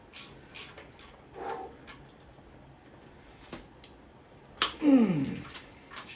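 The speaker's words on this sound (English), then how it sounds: "Should be using a bigger wrench for these." A wrench loosening bolts during disassembly of a Ford 289/302 V8 engine, heard as scattered metallic clicks and ratcheting, then a sharp crack followed by a brief creaking grind near the end.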